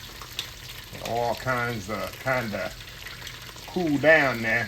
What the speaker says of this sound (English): we're gonna let these bad boys fry up really, really, really, really nice